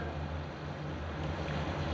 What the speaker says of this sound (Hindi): और देखिए, इस तरह से पानी उबलना चाहिए।